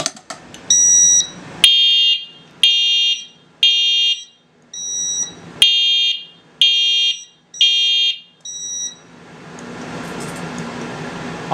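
Fire alarm horns on a panel system under test blare in a steady repeating pattern of about eight loud, buzzy bursts separated by short gaps, then stop, leaving a fan-like hum.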